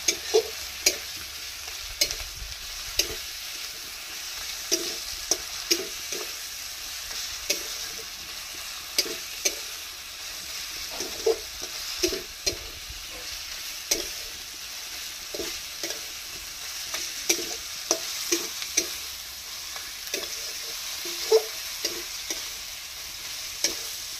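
Ginger-garlic paste frying in oil, stirred steadily for a long stretch: a continuous close sizzle broken by regular spatula scrapes and taps against the pan.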